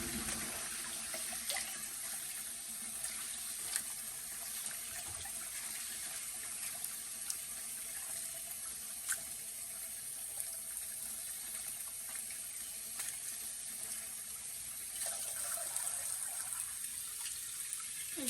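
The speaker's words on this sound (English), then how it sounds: "I wash my greens at least 2 times before I go ahead and cook them because I want to make sure they're nice and clean" Sink water runs steadily as greens are rinsed, a continuous close splashing gush with small clicks of handling throughout and no talk.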